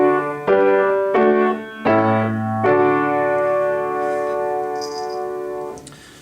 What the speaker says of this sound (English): I'm going to play a quick something on the piano